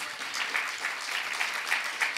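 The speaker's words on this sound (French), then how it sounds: "Merci de les applaudir." Brief applause from a conference audience thanking two doctors after their talk, a steady patter of clapping at moderate volume, alone without talk.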